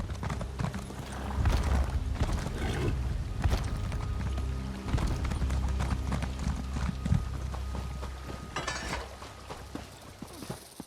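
Horse hooves clip-clopping in the fantasy game Elder Scrolls Online, a quick galloping rhythm of close thuds with occasional heavier landings and a brief snort or whinny, no talking.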